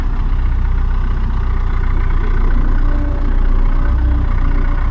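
A cold engine idles just after starting in frost, still unwarmed, with a loud, steady, low rumble that runs unbroken throughout.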